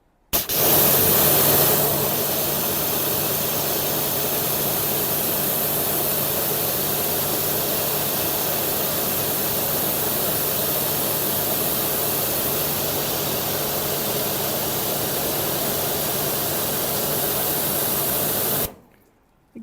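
A Nilfisk pressure washer on a 15 metre hose, reaching about 97 bar through a size 40, 40-degree jet, sprays in a loud, continuous hiss. It starts abruptly, holds steady for about seventeen seconds, then cuts off.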